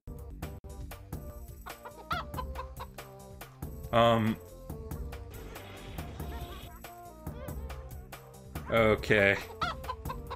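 A chicken in the Shrek Xbox game clucks repeatedly over game music, with two louder squawking bursts standing out. A person talks briefly over the game sounds.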